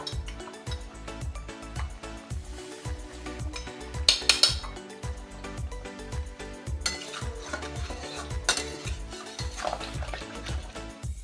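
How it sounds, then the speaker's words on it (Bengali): A fried spice mix is stirred into a pot of helencha leaf shukto: a spoon knocks and scrapes against the pot in a steady rhythm over a faint simmering sizzle, with occasional metallic clinks. "এবার দিয়ে দেব ভাজা মশলা।"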